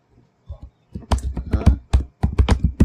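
Typing on a computer keyboard during an MS Office practice lesson: after a quiet start, a rapid, irregular run of close, crisp key taps and thunks.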